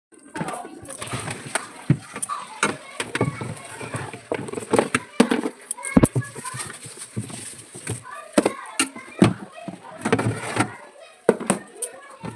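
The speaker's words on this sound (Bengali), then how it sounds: "আর আমি এখানে এখন সবজি কাটতে বসেছি" Vegetables chopped with a knife for a Bengali festival meal, sharp irregular cuts on a board mixed with household clatter and ongoing talk nearby.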